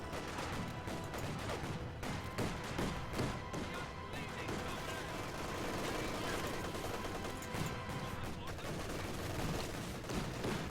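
MG34 machine gun fire in the real-time strategy game Company of Heroes 2, a dense continuous din of gunfire and battle noise running throughout at steady loudness, with faint voices mixed in.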